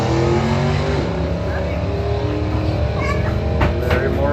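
A Pontiac Grand Prix and a 1978 Mustang roar down a drag strip, engines loud and close with a dense, sustained rumble, while a race announcer talks over the noise.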